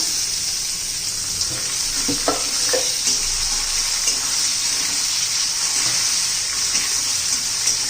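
Onion and tomato fry in a pan with a steady, hissing sizzle that fills the whole stretch, a few soft spatula knocks rising briefly above it early on, close and even, with no speech.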